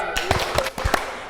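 A group claps along to a clap-for-Jesus worship song, with about half a dozen sharp, evenly spaced claps close by and singing or talking running over them.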